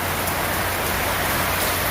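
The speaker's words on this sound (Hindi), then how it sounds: "4 घंटों से बारिश चल रही है और धुआंधार बारिश हो रही है।" Heavy, steady downpour at night in Hyderabad, a dense continuous hiss of rain with no voices over it.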